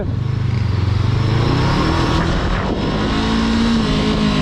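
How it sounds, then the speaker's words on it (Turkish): Cars and motorcycles rev loudly and continuously at a night group ride in İzmir during a tire burnout, engine roar steady and close with rising pitch sweeps and no talk. "Bizimkiler lastik yakıyor."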